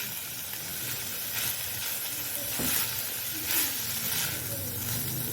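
Lentils frying gently in ghee for haleem, a close, steady sizzle and hiss with soft stirring scrapes rising and falling, no talk.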